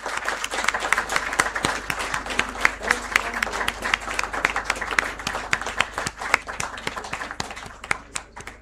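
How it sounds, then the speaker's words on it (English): Audience applause at a moot court prize distribution ceremony, a dense round of clapping from a seated crowd that holds steady throughout and thins slightly at the end, with a few sharp individual claps standing out. "A huge round of applause for sir."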